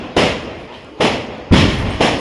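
Three or four sharp, loud bangs burst at uneven intervals, each a broad crack with a short decaying tail, firecrackers going off nearby during Diwali celebrations.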